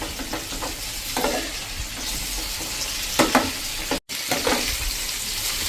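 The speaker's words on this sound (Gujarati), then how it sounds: "હવે આપણે આને આ રીતે મિક્સ કરી લેશું તેલમાં જ, મસાલામાં જ." Okra being stirred and fried in oil with spices over a medium flame, a steady close sizzle with scraping stir strokes and a brief break near the end, no talking.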